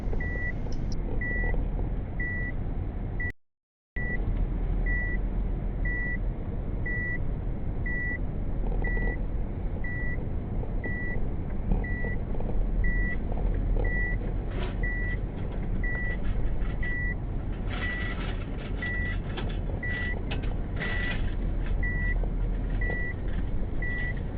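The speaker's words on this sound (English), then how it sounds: "show you how we reverse and put the boat on." A car reversing to back a boat trailer carrying a motorised kayak sounds a steady, evenly spaced electronic reversing beep over a continuous engine hum for over twenty seconds.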